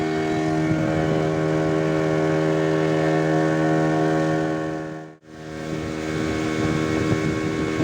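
A motorboat engine drones steadily and loudly on a backwater ride near Mudhaliyar Kuppam island off Chennai's ECR, holding an even hum, briefly cutting out once, then resuming.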